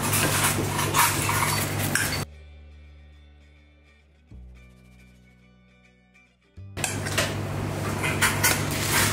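Sponge cake batter is stirred with sifted flour in a bowl, the utensil scraping and clinking against the bowl in two close bursts separated by a quiet stretch with faint tones.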